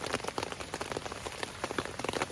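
Solid rain pelts a tarp shelter on a rainy hike, a thick, continuous patter of nearby drops with scattered sharper hits, steady and fairly loud with no voices.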